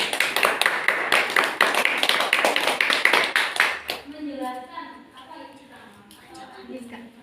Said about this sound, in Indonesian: Tepuk tangan untuk Mbak Ira.